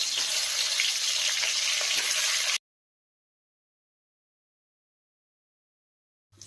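Potato pieces frying in hot oil for biryani, a dense, bright crackling sizzle heard close for about two and a half seconds before cutting off to silence.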